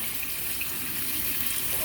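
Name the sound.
cold tap water running over cooked tortellini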